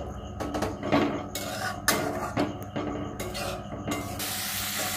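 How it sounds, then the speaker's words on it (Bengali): Boiled kabuli chickpeas fry in a hot pan over a raised flame, with repeated close spoon scrapes and clinks against the pan over a continuous sizzle, no speech. "ভালো করে নাড়াচাড়া করে নিতে হবে।"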